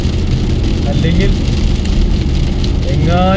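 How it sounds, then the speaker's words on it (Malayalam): Heavy rain drums steadily on a car driving along a Dubai road, a loud, dense wash of noise with the engine running beneath it and a few faint tonal sweeps. "അപ്പോൾ അങ്ങനെ ദുബായിൽ ശക്തമായ മഴ"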